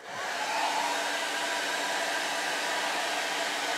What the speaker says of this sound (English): So hair dryer.